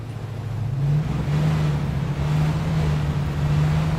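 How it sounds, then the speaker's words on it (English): Steady, loud engine drone of a vehicle in the video game Arma 3, a constant low hum with a slight rise in pitch partway through, running continuously with no voices. "the engine stuff's pretty loud"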